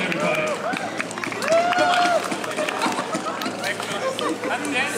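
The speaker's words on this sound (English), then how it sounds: "Let's give them a massive round of applause" Street-performance crowd in Nottingham clapping for volunteers, a broad outdoor wash of applause mixed with chatter and cheering voices, with whistles or shouts rising over the clapping.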